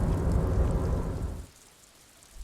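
Steady hissing rain in the video game Disco Elysium, dense and fairly loud, then abruptly cutting away to near silence halfway through.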